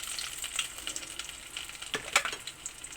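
Food fries in a pan with a continuous close sizzling hiss and crackle, joined by a couple of brief louder spits and clinks near the end.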